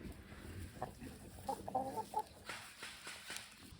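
A small free-range flock of chickens pecking for bugs outdoors, with scattered soft clucks and brief chirpy calls close by over a light outdoor background, no talking.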